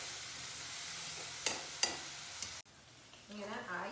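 A crushed cauliflower filling salted and stirred in a pan: a steady quiet hiss with a few sharp spoon scrapes, then a sudden drop to a fainter sizzle with soft stirring near the end, no talking.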